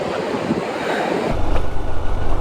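Ocean waves at the beach of Órganos on Peru's northern coast, a broad roar of surf with heavy wind buffeting the microphone, the low rumble growing stronger halfway through.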